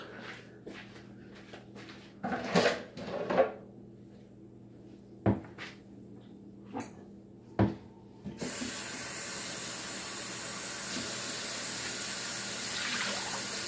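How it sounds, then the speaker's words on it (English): Several clattering knocks and clunks of cups against a pot, then a steady rush of water being poured into the pot in a kitchen, continuing to the end. "I'm going to go ahead and pour my cups of water in our pot"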